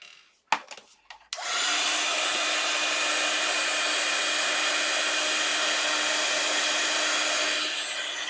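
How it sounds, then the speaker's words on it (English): Electric heat tool setting embossing powder on a Christmas craft page: a few clicks and knocks, then a steady loud blowing hum like a hair dryer running for about seven seconds. "So I'm going to go ahead and heat set that."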